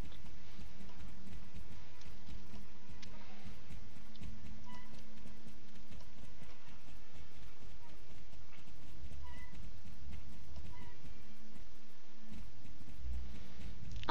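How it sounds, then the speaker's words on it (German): A horse galloping in the online riding game Star Stable: a steady, continuous patter of hoofbeats with game ambience and occasional chimes, moderately loud, without talking. "So, dann galoppieren wir da mal ganz schnell hin."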